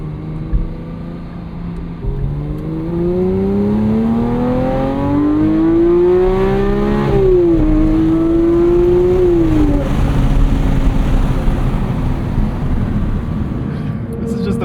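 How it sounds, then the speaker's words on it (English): A 2025 Porsche 911 GT3 with a 4-liter naturally aspirated flat-six engine rises in pitch as it revs steadily, drops briefly, climbs again and then holds a sustained drone, loud and continuous throughout. "behind us is a 4-liter naturally aspirated flat 6 making 502 horsepower and 331 pound-feet of torque"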